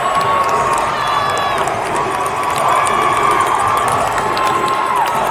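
Loud, sustained cheering and shouting from a high school ice hockey crowd at Elkhorn South versus Creighton Prep after a deflected goal, a dense roar with whistles and excited voices that barely dips.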